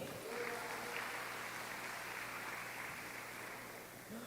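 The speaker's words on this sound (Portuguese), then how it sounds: "Aplauda Jesus por isso, amém?" Church congregation applauding during a sermon, a soft, steady wash of many hands clapping at a distance that holds evenly and tapers slightly toward the end.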